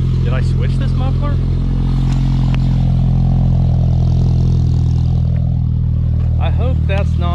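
A Pontiac Phoenix engine runs through a newly fitted Magnaflow muffler, making a loud, steady low exhaust drone throughout while a person talks over it.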